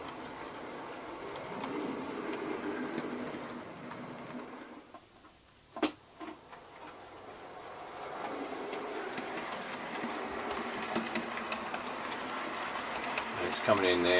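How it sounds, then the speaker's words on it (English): Model passenger train running through a junction on a loft layout of Austrian railways, a steady near rumble of wheels that thins briefly midway and then returns, with faint ticking clicks over the rails. "there's a passenger train now coming off the other branch at the other end of the junction."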